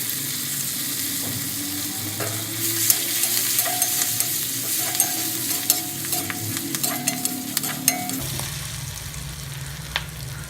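Curry leaves and chopped green chillies sizzle steadily in a hot pan for raw mango rice, a constant frying hiss with occasional crackling pops and stirring scrapes, close and continuous throughout.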